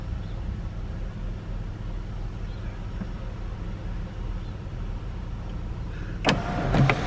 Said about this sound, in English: Sunroof works.